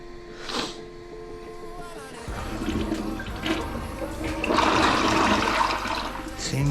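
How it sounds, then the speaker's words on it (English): Toilet flushing right after a quick installation over a steel drain, water rushing and gurgling steadily for several seconds with a louder surge near the end. "Seems to be flushing for now."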